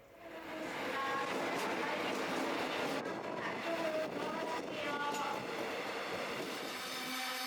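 Mugunghwa train 1450 bound for Mokpo pulls away from the platform, a rising rumble of wheels with squeals and clacks, while a voice talks in the background.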